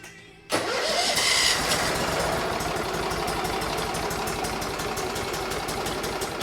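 A 2006 Mud Buddy Surface Drive HD mini outboard engine cranks after a brief quiet, catches and runs with a loud, steady, rapid lawnmower-like chatter, with no one talking.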